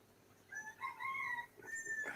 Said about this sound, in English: Well, I hear the rooster.